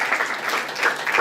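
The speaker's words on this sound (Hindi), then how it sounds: "परमेश्वर के लिए ताली बजा दी, क्योंकि वो राजाओं का राजा है।" A church congregation claps in praise, a brief burst of many hands applauding together at close range.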